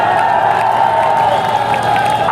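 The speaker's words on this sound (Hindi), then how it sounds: "मैं तालियां चाहूंगा ये वाले मीडिया के लिए" An outdoor political rally crowd in Jaipur led by Arvind Kejriwal gives a loud, dense burst of applause and cheering, sustained and close throughout.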